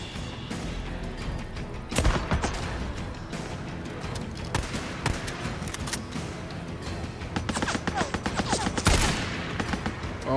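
Rapid gunfire in the PS5 video game Days Gone, with dense bursts of shots and loud heavy blasts around two and nine seconds, over a constant game backdrop.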